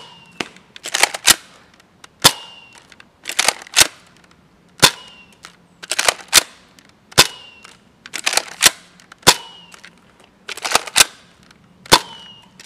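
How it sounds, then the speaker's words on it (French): A Nerf Mega Cyclone Shock blaster fires darts outdoors in a straight shot, sharp loud pops coming in irregular clusters of two or three with mechanical clacks between them. "on se retrouve pour le test de tir du Nerf Mega Cyclone Shock"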